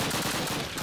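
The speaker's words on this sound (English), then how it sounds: "Why won't my bullets hit anyone?" Sustained close gunfire in Call of Duty United Offensive, a rapid burst of loud shots packed tightly across a brief moment.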